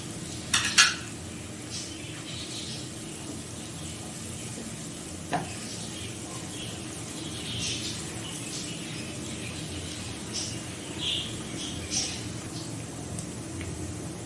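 Soft, steady sizzling of garlic frying in a pan, with occasional clinks and scrapes of a utensil stirring, close up, no talking.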